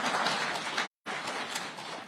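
Audience applause at a speech by the Kenyan president, a burst of clapping from a crowd that breaks off briefly and then resumes at similar strength, moderately loud and continuous.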